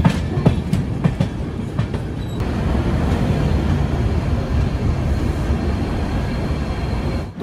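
The Kamrup Express rolls into New Bongaigaon station with a loud, steady rumble of wheels and carriages, a few sharp clacks at first, then a dense continuous roar that stays close throughout.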